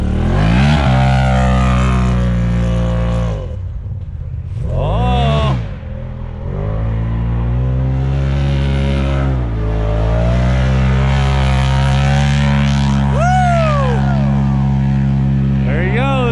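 A Can-Am off-road vehicle's engine revs loudly and close as it pulls up, with rising and falling pitch sweeps, while people talk over it throughout.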